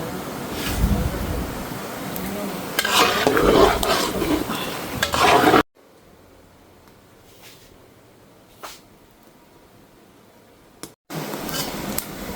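Bombay chilies stirred in a cooking pan, with busy scraping and sizzling up close, then a quieter stretch with occasional faint knocks before the stirring resumes.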